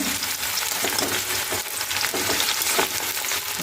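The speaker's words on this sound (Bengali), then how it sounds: "পেঁয়াজটা একটু লাল লাল ভাজা হয়ে গেছে" Onions frying in a pan while cooking desi chicken, a loud, dense sizzle with rhythmic stirring scrapes recurring every half second or so, close and continuous with no talking.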